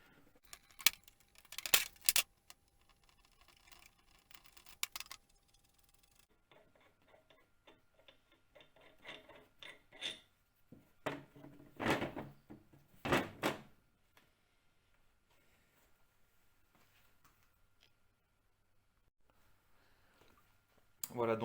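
A brake caliper being opened during renovation gives clusters of sharp metallic clicks and clanks, close and intermittent, separated by near-silent pauses.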